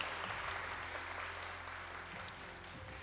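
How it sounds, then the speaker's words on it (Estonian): An audience at the 2022 integration prize ceremony in the Rotermann Salt Storage hall applauds faintly and at a distance. The dense, even clapping continues steadily throughout. "Teeme suure aplausi talle."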